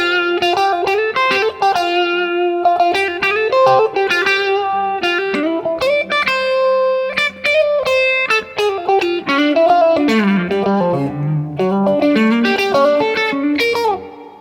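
Electric guitar plays a distorted solo drenched in delay and reverb, a continuous run of sustained bends and quick melodic notes, loud and upfront with no voices.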